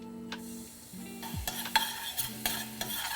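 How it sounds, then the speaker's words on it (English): Minced garlic frying in olive oil in a pan, a soft steady sizzle broken by repeated utensil scrapes and clinks as it is stirred, with no talking. "Fry up the garlic."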